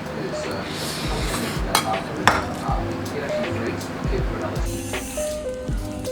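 Food stirred on a plate with a utensil, repeated scraping and clinking of metal against dishware in irregular strokes, with a person talking alongside.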